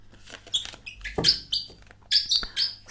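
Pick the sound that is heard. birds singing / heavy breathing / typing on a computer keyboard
birds singing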